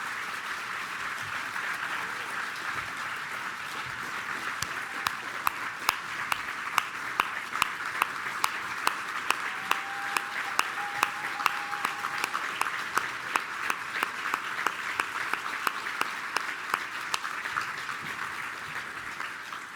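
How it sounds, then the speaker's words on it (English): Sustained applause for honorees at a mentoring awards ceremony, a soft, distant-sounding wash of clapping punctuated by crisp, evenly spaced individual claps that continue for nearly twenty seconds. "Can we have one more round of applause for our phenomenal"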